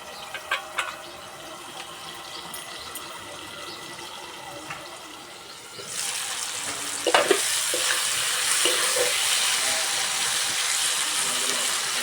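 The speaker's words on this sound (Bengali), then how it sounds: "এইভাবে 2-1 বার দেবো, দিয়ে কপিটা সিদ্ধ করে নেব।" Cauliflower cooks in a pot for pickle, starting with a quiet bubbling hiss and a few clinks, then rising into a louder, steady sizzling, bubbling rush with occasional knocks.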